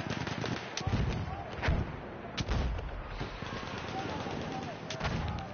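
Artillery fire in the video game Frontlines booms repeatedly over dense battlefield noise, with several heavy low thuds and crackling blasts spread across a continuous roar.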